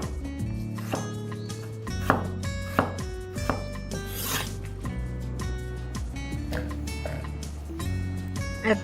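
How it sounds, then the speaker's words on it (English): A knife cuts winter melon wedges into slices on a board, making repeated close thuds and scrapes at an irregular pace, with faint background sounds behind them. "Now I'm going to cut them into slices."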